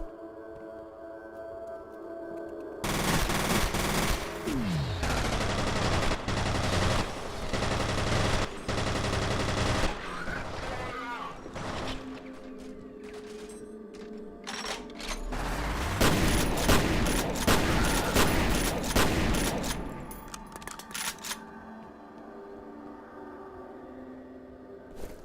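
Gunfire in the video game F.E.A.R., with loud bursts of rapid automatic shots and sharp reports in two long volleys separated by quieter stretches, interspersed with booming impacts.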